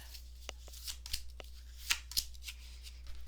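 Tarot cards are shuffled close up with soft riffling and flicking snaps, a few crisp card slaps marking cards being drawn, quiet over a low steady hum.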